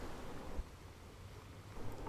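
Ujjayi breathing during bedtime yoga in bed, a soft throat-constricted breath through the nose imitating ocean waves: a faint, steady airy wash that swells gently, with no talking.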